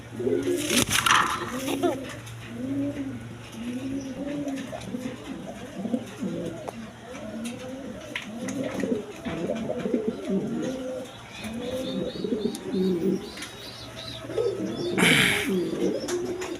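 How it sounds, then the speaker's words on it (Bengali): A pair of Mondain pigeons coo steadily at close range in repeated low, rolling phrases, with occasional rustles and thumps, and a faint voice now and then in the background. "দা এখানে এক পেয়ার মন্ডিয়ান কবুতর আছে"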